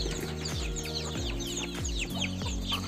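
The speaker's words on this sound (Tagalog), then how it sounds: "Yan yung mga bisayang manok" Native Bisaya chickens cluck and chatter near the microphone, with repeated descending clucks in an irregular rhythm, overlapping calls from several birds and a faint wing flutter, with no talking.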